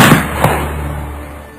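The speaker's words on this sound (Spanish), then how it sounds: "el segundo marañón apuntó mejor, tomó referencia y provocó un segundo disparo" A gunshot sound effect for a historical shooting, two sharp cracks close together at the start, then a loud booming report that decays into a long fading echo.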